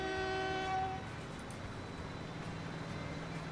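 A freight train in the Transport Fever game sounds a long harmonic horn blast that cuts off, followed by a steady low rumble of rolling wagons.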